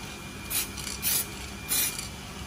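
Three short raspy rubbing strokes of 2000-grit sandpaper on a carbon fiber part, evenly spaced and fairly quiet, over a faint steady background hiss.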